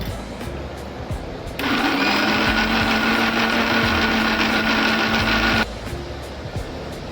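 An electric mixer grinder whirs loudly for about four seconds while blending prawn masala with yogurt, starting abruptly and cutting off sharply, with quieter room noise before and after.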